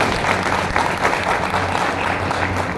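Audience applause at a business recognition event, a steady, moderate patter of many hands clapping together, continuous and somewhat distant, with a faint hum beneath.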